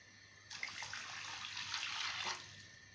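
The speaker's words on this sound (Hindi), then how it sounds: "तो इसी हिसाब से मैं इसमें 2 प्याली पानी डालूंगी।" Water pours into a pan of melted ghee and sugar for halwa, a steady splashing stream lasting about two seconds, fairly quiet and close, with no speech.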